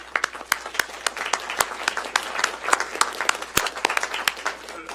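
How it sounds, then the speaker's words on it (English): Applause at a city board meeting, a modest group clapping unevenly for several seconds with distinct individual claps standing out, some voices faintly heard beneath. "I just want to give you a round of applause."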